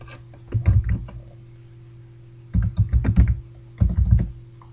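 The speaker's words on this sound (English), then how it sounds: "And I would type my content here." Bursts of typing on a computer keyboard while entering chapter text, three clusters of quick key clicks separated by short pauses, close and moderately loud.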